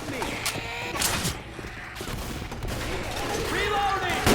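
Gunfire from the video game Left 4 Dead 2, with bursts of shots and rapid weapon fire mixed with game voices and effects, loud and busy throughout.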